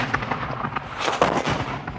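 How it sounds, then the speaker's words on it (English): Cannon and rocket artillery bombard a Māori pā at Ohiawai: a rapid, uneven run of booming shots and cracks over two seconds, with one heavier blast near the middle, fairly close and loud, with no voices. "He ordered his artillery to spread fire across the pā."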